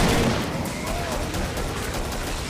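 Gunfire in the video game Killing Floor, a dense stretch of rapid shots and bursts, loud and continuous across the whole moment, with faint voices underneath.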